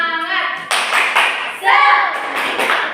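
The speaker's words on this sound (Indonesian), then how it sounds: "kita tepuk semangat dulu ya" A school class does a rhythmic spirit clap in a micro-teaching lesson, sharp bursts of hand claps in quick patterned groups, with children chanting along between the claps.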